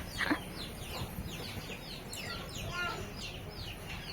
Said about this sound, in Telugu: కోడి కోళ్ళు లోపల పోలుతాయి